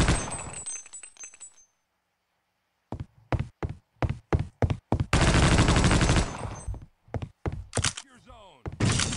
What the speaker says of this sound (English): Stop shooting me!